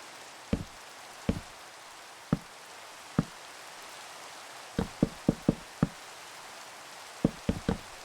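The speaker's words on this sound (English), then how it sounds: "I hope you guys enjoy these videos here with the rain." Rain in the Minecraft video game, heard as sparse, sharp knocking drops landing at irregular intervals, some clustered close together, over a quiet hissing background with no voices.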